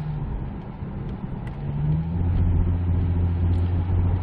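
A 10-year-old Kia Mohave SUV accelerates hard along a road, its engine droning steadily and rising in pitch and loudness partway through, heard from inside the cabin with no talk.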